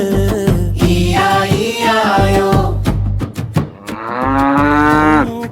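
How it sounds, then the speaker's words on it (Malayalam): A cow moos repeatedly in long, drawn-out calls over a rhythmic musical backing with steady beats. "കരയുന്നൊരു പശുവാണു"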